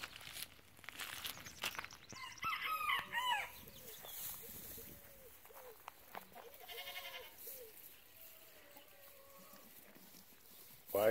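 Chickens cluck in short repeated calls around a yurt homestead while a rooster's crow rises briefly near the start, with goat-like bleats mixed in; the birds sound fairly close, and a brief loud burst ends the clip.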